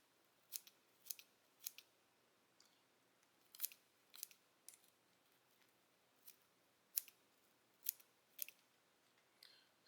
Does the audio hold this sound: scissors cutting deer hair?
yes